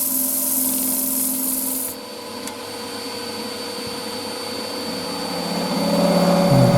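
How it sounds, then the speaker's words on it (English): Sandpaper rubs steadily against a spalted hazel lidded pot spinning on a wood lathe, a continuous close hiss over the motor's hum, with a brief pitch shift partway through. "back there to the old sanding"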